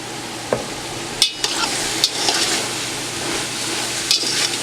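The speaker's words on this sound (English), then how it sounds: "So put all this in and give this a really, really good stir." Turkey chilli ingredients and onions being stirred in a pan over a constant hiss of frying, with a few sharp scrapes and knocks of the spoon and no voices.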